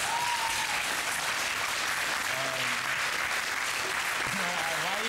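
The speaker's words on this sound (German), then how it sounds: "warum klatscht ihr denn überhaupt?" A live studio audience applauding, a loud, dense wash of clapping that runs throughout while someone speaks over it.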